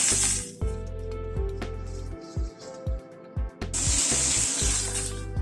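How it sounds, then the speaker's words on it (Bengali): Potatoes fry in a pan over a low gas flame with asafoetida, a bright sizzle that fades while stirring spoon scrapes and knocks thud repeatedly, then the sizzle swells again. "আলুটাকে আগে একটুখানি নাড়াচাড়া করে নিচ্ছি।"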